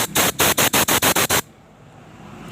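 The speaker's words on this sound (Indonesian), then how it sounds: "Coba kita semprot menggunakan angin." Compressed air blasts from a spray nozzle aimed between the exhaust and intake ports of a Yamaha Mio Soul scooter engine, eight loud, rapid hissing bursts in a steady rhythm, then stopping to leave quiet room noise.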